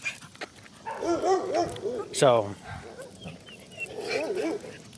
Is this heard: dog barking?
yes